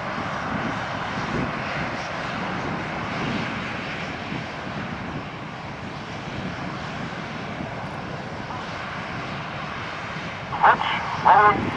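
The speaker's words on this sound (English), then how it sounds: "the pilots now go to full power on their Rolls-Royce outdoor engines" Loud, sustained roar of Red Arrows jet aircraft Rolls-Royce engines running at full power before a display takeoff at an air show, broad and steady, with a few brief higher sounds near the end.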